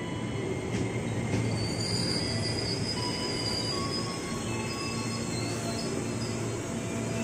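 A KRL commuter train bound for Bogor rolls into track 2 at Cawang station, its wheels squealing in a sustained high whine over a steady rumble, loud and close throughout.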